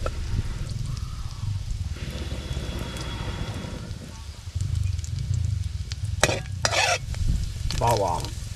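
Garlic fries in a pan for a leftover-rice dish with a continuous crackling sizzle and scraping stirs. Sharp utensil clatters come near the end, and a faint voice murmurs in the background.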